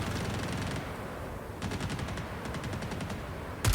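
NPC gunfire in Star Citizen: bursts of rapid automatic shots in two clusters, separated by a quieter gap, with a sharp louder report at the very end, all fairly close and without speech.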